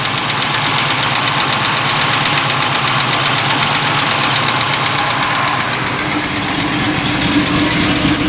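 A 1970 Ford Mustang Boss 302 with a Flowmaster exhaust idles with a deep, loud, continuous burbling rumble that holds steady from start to finish.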